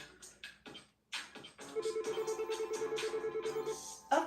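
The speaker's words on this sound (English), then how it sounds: "Of course, my work phone would be ringing." A work phone rings during a home iron workout, sounding a steady, evenly pulsing electronic ringtone for about two seconds after some rustling and movement, fairly near and alone without talk.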